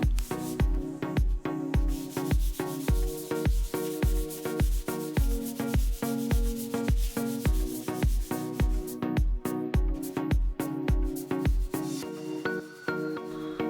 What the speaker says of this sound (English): then I followed up with hand sanding with 120 grit, and then finally 180 grit to get it smooth